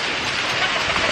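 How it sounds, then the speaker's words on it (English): Rain in a video game, a steady dense hiss of falling rain heard briefly and fairly loud, with no talk. "Okay, guys, it's raining."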